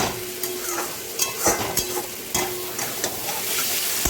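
A spice paste being stir-fried in oil until the oil separates, with continuous sizzling broken by repeated scraping strokes of a spatula against the pan, close and fairly loud.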